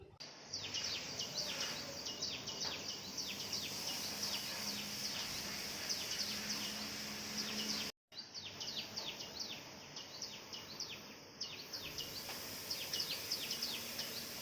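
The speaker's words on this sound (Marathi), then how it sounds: "इथे आहे चिक्कूचं झाड आणि त्याच्यावर बारीकशे चिमण्या आहेत आणि किती दंगा करतायत बघा" Many small sparrows chirp busily and continuously in a chikoo tree, a lively chattering chorus over faint outdoor background noise.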